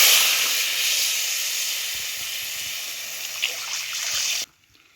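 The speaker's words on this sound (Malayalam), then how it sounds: "ആവശ്യത്തിന് വെള്ളം ഒഴിച്ചു കൊടുക്കാം" Water poured into a hot pan for a sardine curry hisses and sizzles steadily, with faint trickling, then cuts off abruptly near the end.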